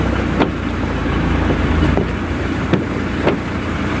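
A car engine runs at about 700 RPM in second gear at tick-over speed while crawling along at a few miles an hour in the Philippines. It makes a loud, steady close rumble with light wind noise and no talk.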